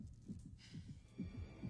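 A muffled, low heartbeat sound effect from the horror film IT (2017) throbs in a steady double-beat rhythm, close and faint under a soft hum.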